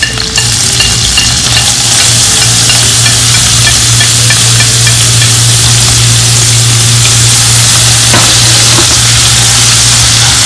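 Garlic and ginger fry loudly in hot cooking oil, a dense, continuous close-up sizzle and crackle with a low steady hum beneath and no voices.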